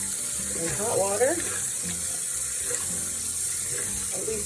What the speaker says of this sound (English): just keep rinsing until the water's pretty clear